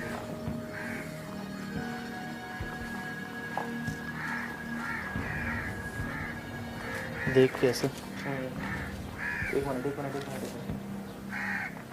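Crows caw several times at a distance over steady outdoor background, while people talk nearby amid the ruins of a building whose roof has collapsed.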